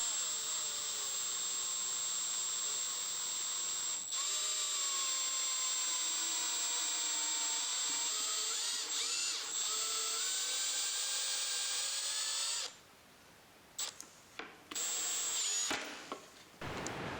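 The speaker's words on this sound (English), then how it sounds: "go ahead and sink a couple of the screws" A power drill sinks screws with a 3/32 bit during a dual lithium battery install in a Chevy Colorado. Its high whine runs continuously for several seconds, then breaks into short, close bursts with brief pauses between them.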